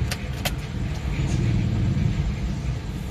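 A Toyota Kijang pick-up drives along a road, its engine giving a steady, loud rumble with road noise heard from inside the cabin, and a couple of brief clicks near the start.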